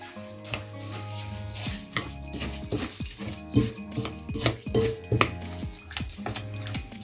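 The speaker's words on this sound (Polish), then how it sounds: "Mokre składniki wlewamy do suchych. Mieszamy." Wet ingredients for baked gluten-free oatmeal are mixed into dry ones, giving soft squelching stirs and repeated clinks of a utensil against the bowl in an irregular rhythm, close and fairly quiet, with no voices.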